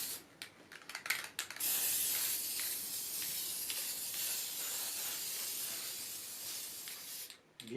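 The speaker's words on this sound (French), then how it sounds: "Et je prends ma bombe." Aerosol spray paint can on a large pump: a few sharp clicks and rattles, then one long steady hiss of spraying that runs for several seconds close up before cutting off.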